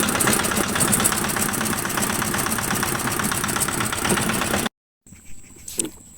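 Outboard motor of a fishing boat on a river runs steadily with a close, buzzing mid-pitched drone, then cuts off abruptly, leaving faint quiet noises and a brief thump.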